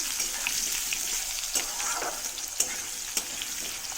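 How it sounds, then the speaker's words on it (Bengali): Potatoes fry in hot oil with nigella seeds for a ridge gourd, potato and lentil-dumpling dish, giving a steady close crackling sizzle with a few sharp spatula knocks against the pan; no voices. "আলুগুলোকে একটু ভাজা ভাজা করে নেব।"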